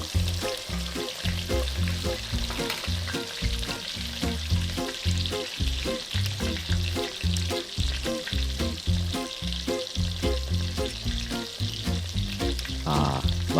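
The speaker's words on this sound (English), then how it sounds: "we're going to deep fry them for about another 5 minutes" Pork cutlets crackle and sizzle steadily while deep frying in hot oil, a dense, continuous bubbling hiss with irregular pops close by.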